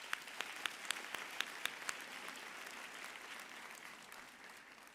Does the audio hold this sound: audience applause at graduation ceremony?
yes